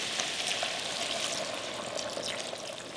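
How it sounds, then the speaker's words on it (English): Red wine poured into a hot pan of sizzling vegetables for a German beef rouladen sauce, a steady broadband hiss and crackle that stays loud and even throughout, with no voices. "I'm gonna add about a cup of red wine."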